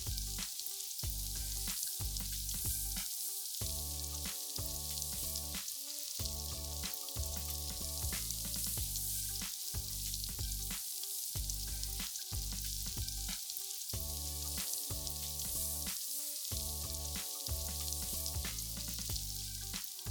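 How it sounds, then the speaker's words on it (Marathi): Sabudana thalipeeth shallow-fries on a pan, a loud continuous oily sizzle with crackling bursts lasting throughout, close up and with no voices. "छान आता भाजत आलंय ते."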